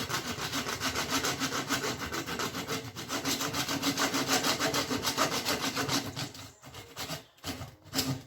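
A long butcher's saw cuts through lamb bone with steady back-and-forth rasping strokes, close and continuous for several seconds before slowing into a few uneven final pulls, with no talk.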